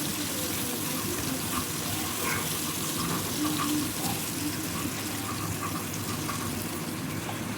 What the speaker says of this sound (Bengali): এবার তেলের ওপরে লবণ দিয়ে এঁচড়টাকেও ভেজে নেব।